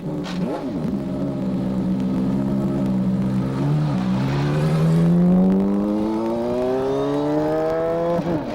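An IndyCar racing car with a manual gearbox, driven by Nigel Mansell, laps the track. The loud engine drone climbs steadily in pitch through the gears, with distinct gear changes along the way and no voices.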